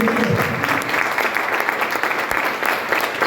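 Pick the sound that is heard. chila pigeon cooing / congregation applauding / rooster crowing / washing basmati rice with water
congregation applauding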